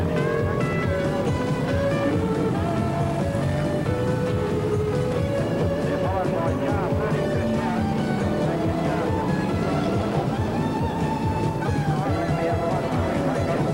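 Hot rod race cars roar away from the start at Murray Bridge Speedway during the 1988 Australian Hot Rod Championship, engines droning loud and continuous while a commentator talks over the noise.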